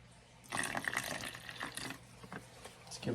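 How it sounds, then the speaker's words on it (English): A splash of apple cider vinegar pours into barbecue sauce, a short burst of liquid splashing and trickling close up that briefly swells and then tapers into small drips, faint overall. "A little splash of apple cider vinegar."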